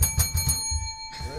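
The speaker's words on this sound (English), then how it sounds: "I ring the bell for myself." A bell rung on a comedy talk show, several quick bright rings in a rhythmic burst followed by a lingering ringing tone, with voices talking faintly underneath.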